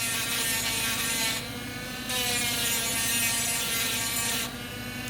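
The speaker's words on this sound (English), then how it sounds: "Now that's me sanding it." Sanding a resin box by hand, producing a loud, steady abrasive rasp in long strokes with a brief lighter pause between passes, close up and with no talking.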